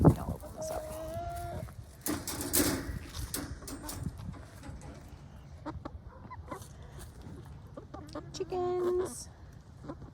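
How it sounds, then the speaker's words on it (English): Backyard chickens cluck in short bursts close by, with a child and an adult talking over and between the calls. "Chickens."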